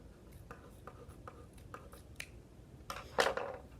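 Cloth scissors snip through fabric while an armhole is cut from a shirt to make a tank top, a few quiet cuts that end in a louder, longer burst of cutting.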